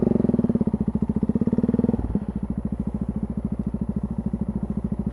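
A Yamaha XT660Z Tenere motorcycle idles nearby with a crackly exhaust. Steady, even thumping pulses carry throughout, and a brief dip near the middle settles back into the same rhythmic idle.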